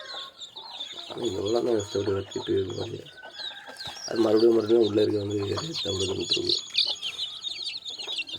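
Native country chickens cluck in two short bursts of throaty calls close by, mixed with chirping from other birds, while a person talks over them.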